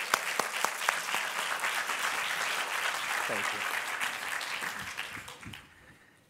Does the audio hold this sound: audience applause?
yes